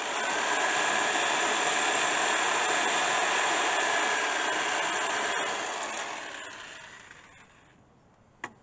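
Jigsaw cutting through a plastic food-grade barrel, giving a loud, steady buzzing whine that tapers off as the cut ends, followed by a single sharp click.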